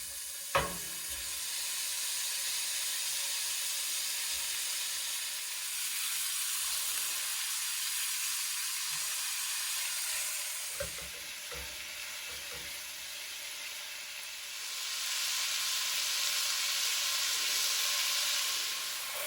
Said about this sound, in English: we're gonna add half of the pork into our pan, our hot pan, and then we're going to cook that for 2 to 3 minutes